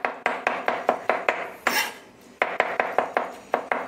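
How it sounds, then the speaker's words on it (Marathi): A knife chops raw meat on a board, mincing it by hand, in a quick run of sharp, regular thuds with a short pause partway through, loud and close. "ते याला शक्य होईल तितकं याला चॉप करायचं आहे, म्हणजे थोडक्यात याचा किमा करून घ्यायचा आपल्याला"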